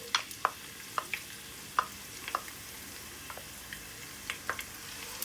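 Onions frying in hot oil in a pan while making beef nihari, a faint low sizzle with soft intermittent pops and crackles scattered throughout.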